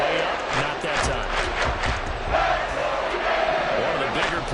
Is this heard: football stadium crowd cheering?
yes